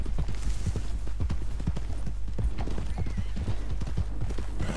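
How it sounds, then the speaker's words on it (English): Horses clip-clopping past in Red Dead Redemption 2, a close, busy run of hoof strikes on hard ground with an occasional whinny, with no talk over it. "More horses."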